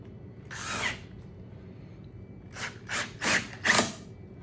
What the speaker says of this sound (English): We'll run the drill through it one more time.